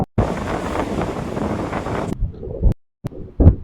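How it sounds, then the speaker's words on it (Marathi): Strong beach wind buffets the microphone in a loud, steady roar for about two seconds, then drops away into brief gusts and short bursts of rumble. "आणि हवा एवढी आहे."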